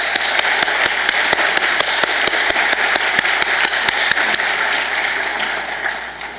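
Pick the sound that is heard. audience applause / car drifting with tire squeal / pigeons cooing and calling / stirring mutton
audience applause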